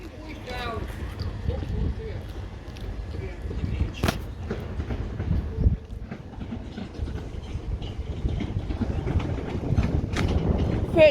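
A three-coach electric train, ex GN unit 387121, rumbles steadily past a station platform, with a continuous low roar and occasional clatter while people talk nearby.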